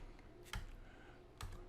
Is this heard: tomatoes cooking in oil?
no